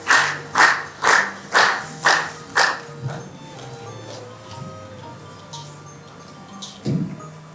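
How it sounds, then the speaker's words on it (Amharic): Audience at a book launch ceremony in Ethiopia claps in a series of about six loud, regular bursts, then the clapping fades into quieter room noise with scattered sounds. "በክብር ወደዚህ መድረክ አለቃዬ ነኝ አጨብጭቡላት"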